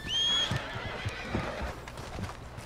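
Horse neighing at the start of a Red Dead Redemption 2 game scene, a bright whinny followed by scattered clip-clop hoofbeats, close and fairly loud with low rumbling game ambience underneath.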